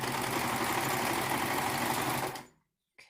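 A serger sewing machine stitches a ninja mask in a fast, steady mechanical whir that runs for about two seconds, then winds down and stops, followed by a brief click.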